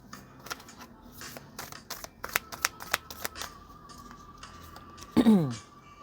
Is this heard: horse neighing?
no